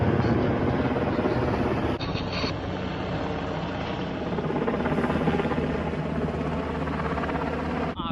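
Helicopter working over a wildland fire, a steady, loud rotor roar with a throbbing drone that persists throughout without pause, no voices.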